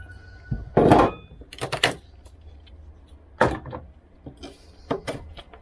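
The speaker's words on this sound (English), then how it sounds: "There's something oddly satisfying about knocking these big chunks of bearing compound out." Big chunks of fairing compound are knocked off a fire-damaged catamaran hull in a series of sharp, irregular knocks and scraping cracks, some in quick clusters, fairly close and loud against a quiet background.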